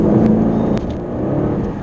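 A Jaguar XKR's engine revs up from a low cruise, a loud, close, deep growl that swells and holds under the throttle.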